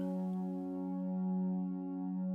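A sustained chord washed through the Aberrant Layer reverb plugin on its mirror setting in Ableton, a steady, shimmering harmonic drone that holds evenly and then thins slightly at the top.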